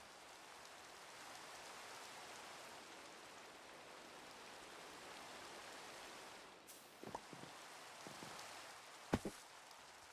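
Rain in the Minecraft modpack ATM10 falls as a steady, faint hiss throughout, with a few soft clicks and taps near the end.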